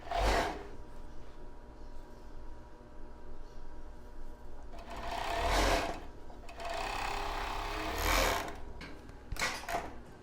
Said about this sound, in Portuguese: posso agora já passar uma costura aqui, unindo esse aqui para fechar